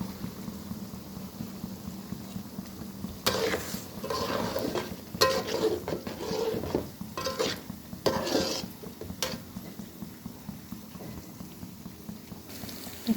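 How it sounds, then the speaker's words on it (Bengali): Boiled, deboned fish frying in a pan, a soft bubbling sizzle with bursts of scraping and stirring in the middle, close by and without speech. "এখানে আমি মাছ ভাজিতে দিয়ে দেব"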